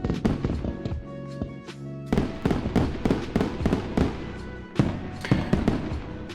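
Fireworks sound effect triggered by a stream hype command: a rapid string of sharp bangs and crackling pops with ringing tails, loud and close, continuing in quick bursts throughout.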